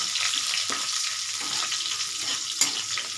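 Chicken for chicken kosha meets a hot pan of oil with dried red chillies, cinnamon and cardamom, giving a steady, close sizzle with a sharp crackle near the end and no voices.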